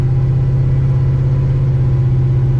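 A car with no power steering holds a loud, steady low engine drone as the driver keeps on the gas, with an even, constant throttle and no clear rise or fall.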